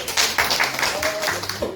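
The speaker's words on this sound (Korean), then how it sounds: "박수!" Sixth-grade schoolchildren clap in a quick burst of applause, sharp hand claps close by lasting a couple of seconds.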